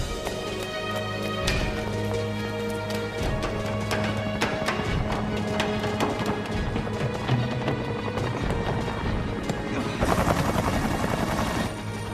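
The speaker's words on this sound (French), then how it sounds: "L'hélicoptère." Helicopter heard as a continuous rhythmic rotor chop with engine whine, loud and close, with sharp knocks and clatter scattered over it and a brief surge of noise near the end.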